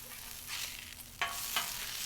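A thin piece of sausage sizzling in a frying pan just after being flipped, a steady close hiss with a couple of sharper crackling spurts.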